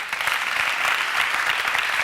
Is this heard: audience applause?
yes